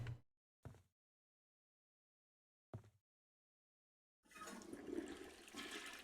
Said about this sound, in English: I can flush the toilet.